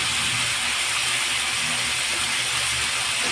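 Brinjal and plantain pieces sauté in hot oil with softened onion, giving a steady, even sizzle and hiss that carries on without a break. No one speaks over it.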